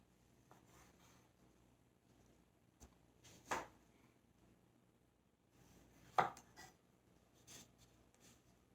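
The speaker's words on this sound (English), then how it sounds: "I'm going to go ahead and slice these tomatoes." A knife slices through tomatoes, probably on a cutting board, giving two distinct cutting strokes with a few lighter taps between them, close and fairly quiet in an otherwise still room.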